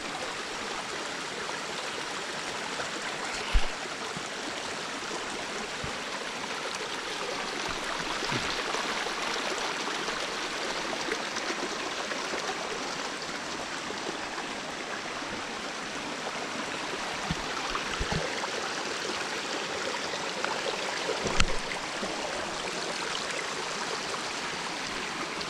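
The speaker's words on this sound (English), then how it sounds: "This is the water that's coming from that little dam there." A forest stream spilling from a small dam rushes in a steady, full wash of water that never lets up, with a few faint knocks and bumps now and then and no voices.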